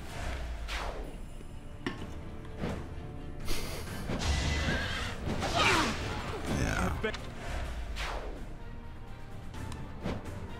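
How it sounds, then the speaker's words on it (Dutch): Flying horses in the video game Fire Emblem: Three Houses neigh and whinny loudly several times over roughly ten seconds, with clip-clop hoofbeats and swooshes in the game sound, while a voice talks over the action. "Er blijven elke keer nieuwe vliegende paarden komen."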